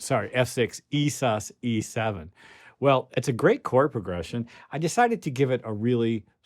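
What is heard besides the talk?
No everyday noises stand out.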